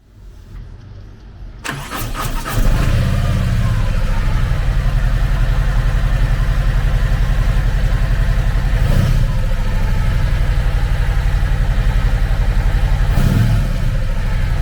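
A 2022 Harley-Davidson CVO Tri Glide trike's 117 cubic inch V-twin fires up after a short crank, then settles into a loud, steady, loping idle with a couple of brief blips, heard alone up close.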